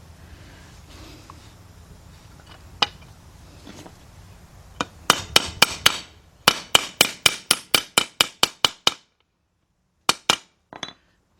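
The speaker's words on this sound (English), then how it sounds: "Again, make sure you're using a brass hammer. Knock that out." A brass hammer knocks out rear brake shoe hardware on a 2000 Isuzu Rodeo 3.2, starting with one sharp strike, then a rapid run of about a dozen close, loud metallic taps and a few final blows.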